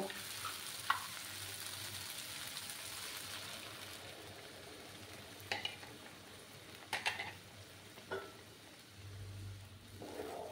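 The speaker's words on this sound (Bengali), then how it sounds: "এবার আমি দুধটা দিয়ে দেব।" Milk hitting potatoes frying in a pan, then being stirred: a soft continuous sizzle with occasional scraping clinks of a utensil against the pan, faint and close.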